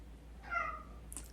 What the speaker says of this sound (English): Excuse me, one of the cats wants to play.